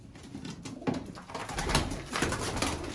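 Pigeons coo in low, soft repeated calls against a constant outdoor hiss, with a few rustles mixed in.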